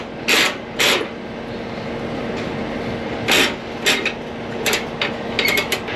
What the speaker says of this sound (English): Strap goes on. This is how you tighten it.